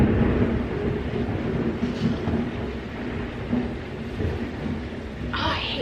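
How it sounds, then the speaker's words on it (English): Thunderstorm at a home in summer, with steady heavy rain hiss and a continuous low thunder rumble throughout, plus a brief brighter crackle near the end. "Since the storm would not pass, it was lingering forever"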